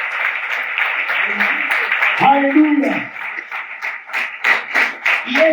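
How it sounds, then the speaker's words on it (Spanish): Sustained applause from a church congregation runs beneath a preacher's voice, then gives way to more scattered, rhythmic clapping as someone calls out in praise. "dale un fuerte aplauso"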